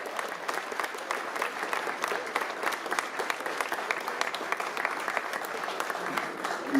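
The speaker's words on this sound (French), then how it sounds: "Je veux vraiment les applaudir, vraiment fort." Sustained audience applause at the Bloody Week-End horror film festival greets the jury, a dense, steady clapping from a full room that holds at even strength throughout.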